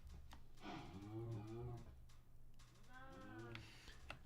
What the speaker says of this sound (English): some of those cows sounded like a big monster